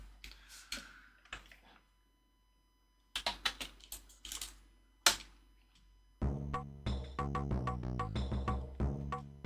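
Fingers tap on an Amiga computer keyboard in short bursts of clicky keystrokes with pauses between them. Dense game music starts partway through and plays under the last stretch of taps.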